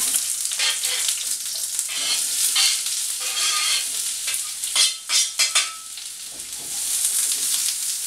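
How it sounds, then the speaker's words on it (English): Onions and beef mince fry in olive oil for shepherd's pie, a steady close sizzle with scraping and stirring strokes from a utensil, a few louder bursts of stirring partway through, and no talking. "fry those off in a bit of olive oil until they're nice and golden brown, and then we're going to add the mince into that"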